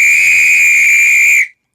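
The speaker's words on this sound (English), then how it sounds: "there's a little piece of cork inside that engages and gives it its trill when it's really loud" A loud, shrill pool whistle blast with a cork inside, held steady for over a second with a buzzing trill, then cut off sharply into silence.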